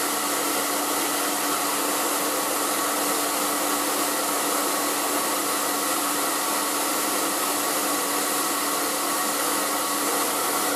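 An ETI Professional Turbodryer 2000 hairdryer runs steadily and loud close by, a constant broadband blowing whoosh with a motor whine and no pauses.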